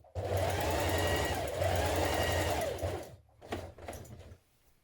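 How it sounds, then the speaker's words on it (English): Sewing machine running a long straight stitch to ease the shoulder edge of a winter coat back piece, a steady loud whir for about three seconds, then a few short stop-start bursts before falling quiet. "Now ease stitch the shoulder edge of the back piece between the notch and the circle here"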